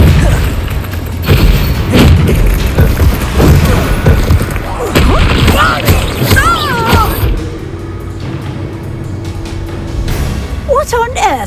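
Bombarda blast spell explosions in Hogwarts Legacy, a series of loud booming bursts over the first several seconds, mixed with game effects and a speaking voice, then quieter with bright magical chimes.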